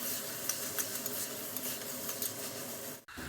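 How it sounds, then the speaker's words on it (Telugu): Ginger garlic paste stirred through softened tomatoes in a pan, a steady close scraping and faint sizzle running continuously for about three seconds, with no talking. "1 స్పూన్ అల్లం వెల్లుల్లిపాయ పేస్ట్ వేసుకుని బాగా కలుపుకుందాము"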